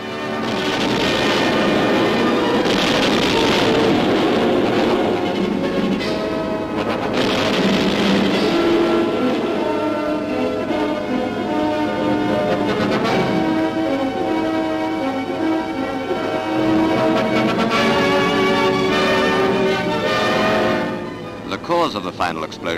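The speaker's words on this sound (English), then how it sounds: "Within 4 minutes of being hit, her after magazine blew up." Archival film of the battleship HMS Barham's after magazine exploding in 1941 after a torpedo hit from German submarine U-331: a sustained loud, dense roar with rumbling blasts, continuous for over twenty seconds before easing off.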